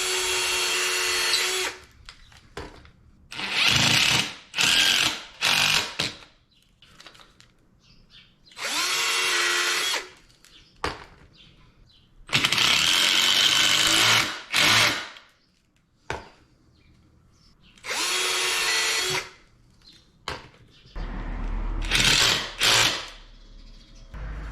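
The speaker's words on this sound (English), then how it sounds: "As always, I'm pre-drilling these before I put the screws in" A power drill whirs in a series of short bursts while pre-drilling screw holes in pieces of a storage box, starting and stopping repeatedly with quiet pauses between, close by and loud.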